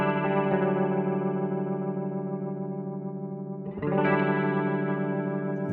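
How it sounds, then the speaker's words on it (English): Electric guitar plays through a Line 6 Helix rotary drift effect modeled on a Yamaha RA-200 rotary speaker. Sustained chords swirl and wobble in a chorus-like way. A new strum lands near the end, and the guitar stays loud and close. "Rotary drift."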